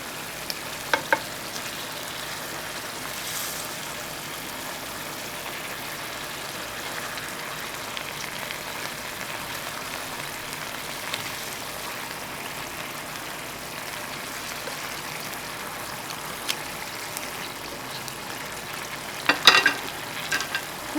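Vietnamese caramelized catfish simmers in a pan, giving a soft, continuous sizzle and bubbling crackle at moderate distance, with a few sharper pops and no one talking.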